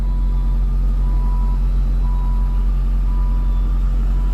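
Backup alarm on a truck reversing around a corner: regular beeps repeat roughly once a second over a loud, constant diesel idle rumble, with no voices.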